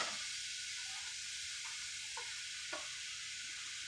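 Half an onion sizzles quietly in a skillet, a soft, steady frying hiss broken by a few faint clicks, heard alone with no talk.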